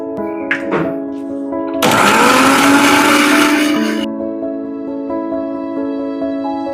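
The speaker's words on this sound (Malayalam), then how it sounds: "മിക്സിയുടെ ജാറിലേക്ക് 3 മുട്ട പൊട്ടിച്ച് വെക്കണം." A kitchen mixer grinder whirs loudly for about two seconds as it blends three eggs in its jar for home-made cake batter, starting abruptly and cutting off, with soft tonal music continuing underneath.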